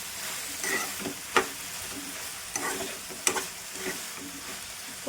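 Tomato and onion are stirred in a sizzling pan for an Andhra-style broad bean tomato curry. Intermittent spoon scrapes and knocks sound over a soft, steady frying hiss, close and fairly quiet.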